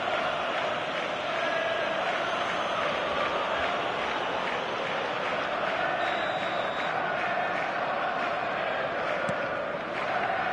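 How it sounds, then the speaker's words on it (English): Stadium crowd noise from an eFootball match, a steady, loud roar of many voices filling the whole stretch with no break, with faint commentary-like murmur mixed underneath. "The crowd are calling for this to be put to bed."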